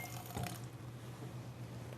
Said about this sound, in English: I still need a 1/4 cup of water, and it's just barely to cover the bottom of the pan.